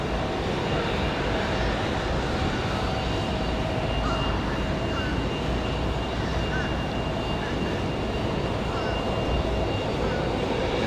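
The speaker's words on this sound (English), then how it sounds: "That beautiful JetBlue departure back to San Juan, Puerto Rico." A JetBlue jet airliner departs Raleigh-Durham International Airport on a windy day, its engines making a steady, sustained roar throughout at a moderate distance.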